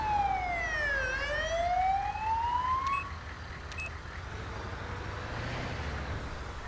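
An Australian-style ambulance siren in GTA 5 wails loudly in rising and falling sweeps for about three seconds, then cuts out, leaving the steady rumble of the vehicle driving on.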